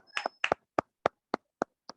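A small audience claps to welcome a speaker on stage, a short burst of about eight separate, fairly close claps that thin out and fade toward the end.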